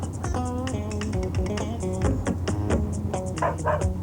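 A dog barks and yips repeatedly over busy background sound, with a steady tonal hum and music-like tones running underneath.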